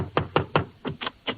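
A door knock sound effect from a 1946 radio comedy broadcast: six firm, evenly spaced raps in two quick groups of three, close and crisp with a narrow, old-broadcast tone.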